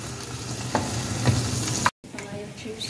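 Gemat, Arabian sweet dough balls, sizzling steadily in hot oil while being stirred, a continuous close crackling frying sound with a brief cut near the end.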